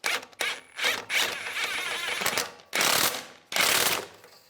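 A ratchet tightens the power steering hose bracket bolt on a Buick Enclave, making close, loud bursts of rapid clicking, several strokes in a row separated by brief pauses.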